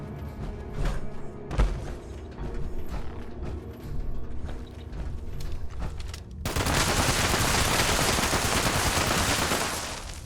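Rapid gunfire from a heavy-barrel gun loaded with explosive ammo in Fallout 76: repeated close, loud shots with mechanical clatter, then a dense, sustained roar of blasts in the last few seconds.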